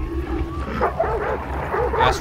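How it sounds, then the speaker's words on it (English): A dog barks and whimpers repeatedly in the video game Hunt: Showdown, with yips scattered over continuous game noise while someone talks throughout. "Now watch out for the dog."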